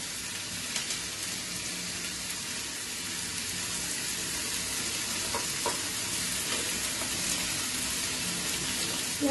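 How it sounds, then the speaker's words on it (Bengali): Onions frying in a pan for a Jodhpuri chicken dish, a steady dense sizzle filling the whole stretch at close range with faint stirring clicks and no talk. "পেঁয়াজটা একটু হালকা ভেজে নেব।"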